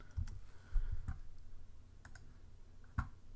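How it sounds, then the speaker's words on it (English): A computer mouse clicks while a face image is warped in photo-editing software for digital zombie makeup. The clicks are faint and sharp, coming singly and in quick pairs at uneven intervals over quiet room tone. "Now I'm just clicking, dragging, releasing, and so on and so forth."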